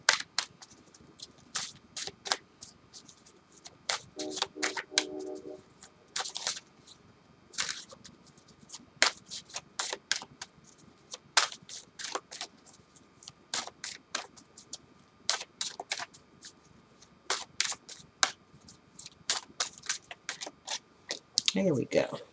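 Tarot cards are shuffled by hand in a quiet room, producing repeated sharp riffling snaps and soft slides in irregular bursts, close up, with someone speaking faintly at times.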